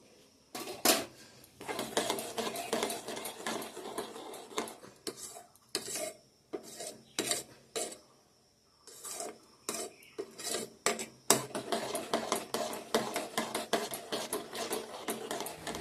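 Tea is being made with a spoon clinking and scraping against a cup, in quick repeated bursts broken by a brief pause. Nearby dishes clatter lightly, and no one speaks.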